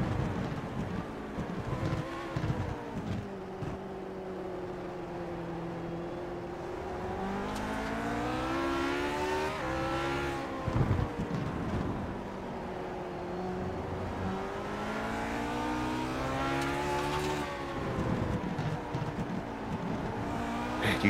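Onboard engine of a Grand Prix Legends race car lapping Laguna Seca in iRacing, the pitch rising and falling steadily as the car accelerates and brakes through corners, loud and continuous with no talk.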